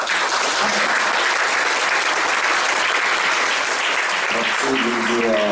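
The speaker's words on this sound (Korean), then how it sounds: "이무영 총장님께 다시 한번 큰 박수로 환영합니다." Audience applause at a lecture on rule of law and investigative reform, dense sustained clapping filling the whole stretch loudly, with a faint voice emerging near the end.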